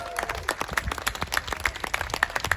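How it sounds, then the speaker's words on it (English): A crowd applauds and claps steadily for the Blue Knight at a jousting tournament at Hampton Court Palace. The claps are dense and fairly close, with no clear voices. "Give him a cheer, Team Blue."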